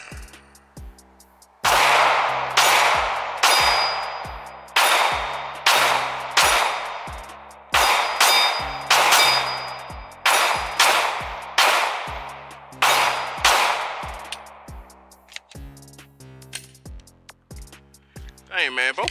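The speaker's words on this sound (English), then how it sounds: "we about to shoot the Glock" Glock 19 pistol gunshots at an outdoor shooting session, about a dozen loud, sharp reports fired in quick irregular bursts, each trailing off in echo, with a voice speaking briefly.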